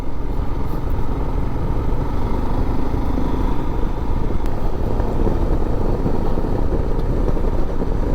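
Motorcycle engine droning steadily and loud throughout as the bike accelerates along a rare straight stretch of resurfaced country road, with continuous wind and road rumble and no talking.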